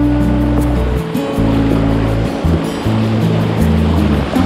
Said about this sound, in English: Here comes the first real white water.